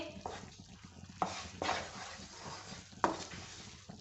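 Ghee and flour mixture for maida barfi being stirred in a pan, a few quiet scraping strokes spaced apart over a low background, no talking.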